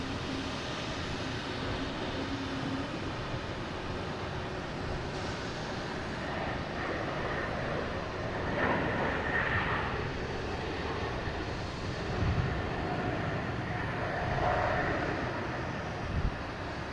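A JetBlue Airbus A220 arriving at Boston Logan from JFK makes a continuous moderate jet rumble and whine that swells slightly in places, with no one talking.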